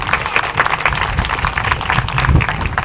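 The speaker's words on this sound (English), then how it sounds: "Let's give these young exhibitors a round of applause." Spectators at a cattle show applaud young steer exhibitors, a dense, close round of clapping with a few scattered voices in the crowd.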